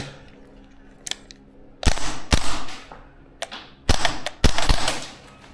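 A Maruyama SPC-9 gas blowback airsoft rifle fires in sharp, close, loud cracks, with several quick pairs of shots separated by short pauses and a faint click between them.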